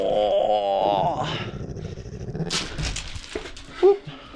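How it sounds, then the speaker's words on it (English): A dog growls, whimpers and yips in a workshop during model aircraft painting, its noises mixed with human talk and a sharp knock near the end. "You're a wild dog."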